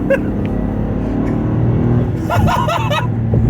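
Toyota GR Corolla engine pulling hard while driving, a steady loud drone that rises toward the end, with excited voices talking over it.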